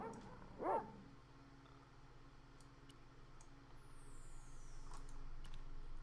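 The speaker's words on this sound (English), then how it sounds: "There's dogs back there," A single brief dog bark from the Broken Sword video game, faint and distant under a low, steady background ambience, with no speech.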